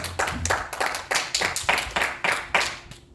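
A church congregation claps in acclaim of Jesus, a run of about seven loud, rhythmic bursts of many hands in a steady beat. The clapping fills the room closely, with no talk over it, then stops abruptly.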